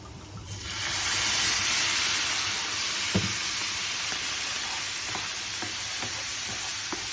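Red wine poured into a hot non-stick pan while cooking vegan lasagne sauce, giving a loud, steady sizzling hiss that swells after the first second and holds, with a few faint clicks of utensils and no voices.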